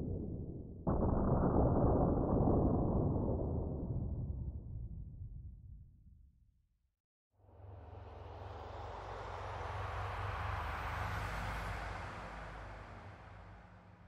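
Ambient sound of the Nether Wastes biome in Minecraft: a loud, deep rumbling drone that swells and fades, breaks into near-silence, then returns as a broad, airy roar with a low hum underneath.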